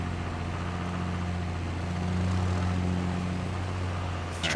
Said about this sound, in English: This tractor sounds good.